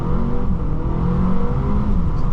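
A 2025 Mercedes CLA 250 with four-wheel drive launches hard, its engine droning loud and close with a steady, rising pull and no talk over it.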